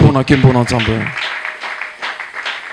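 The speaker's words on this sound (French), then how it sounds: "Si vous m'entendez, applaudissez pour la gloire." A preacher's voice comes first, then a church congregation breaks into scattered applause that continues moderately loud beneath the room's reverberation.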